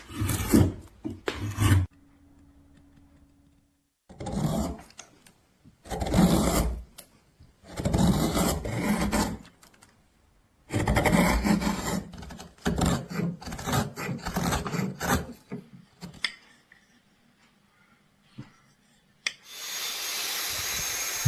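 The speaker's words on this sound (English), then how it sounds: "The craftsman meticulously carves a piece of wood, using specialized gouges and knives to skillfully shape it into an elegant spoon or scoop." A craftsman carving a wooden spoon with gouges and knives: bursts of scraping and rasping wood cuts separated by quiet pauses, close and fairly loud, with no speech.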